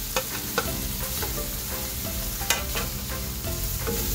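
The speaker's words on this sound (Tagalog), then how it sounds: "I-fry po natin for 1 minute." Steady loud sizzling of hotdogs frying in a pan, with occasional sharp pops and scraping stirs, close up and without any talking.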